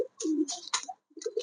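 Pigeons coo at a pigeon farm in a few short, close bursts with brief pauses between them.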